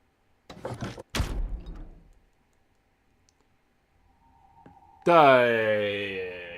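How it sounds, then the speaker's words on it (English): A door opening after a decompression in the video game Virtue's Last Reward: sharp mechanical clunks, a short quiet pause, then a loud tonal sliding whoosh that carries on to the end. "After 2 more decompressions, the last door finally opened."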